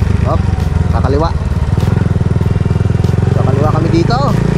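A motorcycle rides along a narrow village road in Corcuera, its engine a steady, close, pulsing drone throughout while a person talks over it.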